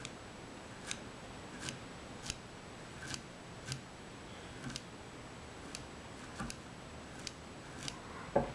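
Scissors trim fly-tying material for a Muddler Minnow in a quiet room, snipping in a steady series of crisp, close clicks about once a second.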